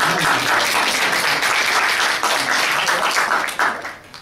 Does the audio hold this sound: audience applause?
yes